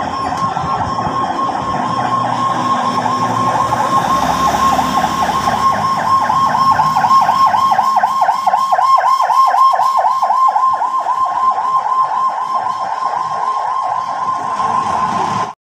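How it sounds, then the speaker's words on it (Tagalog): An ambulance siren wails loud and continuous as it passes close by, its repeating rising-and-falling tone lasting the whole stretch with no talk. "may dadaan po ang ambulansya"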